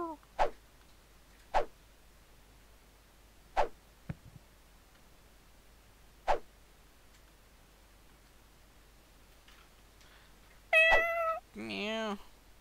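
A cat meows in a video game, a couple of quick mews coming near the end after several sparse, sharp ticks spaced out over a quiet background.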